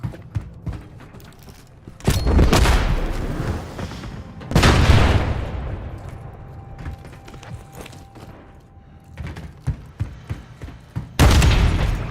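Thermobaric grenade blasts in a first-person shooter game, with several deep booms and long rumbling decays separated by quieter stretches of clicks and mechanical gear noise.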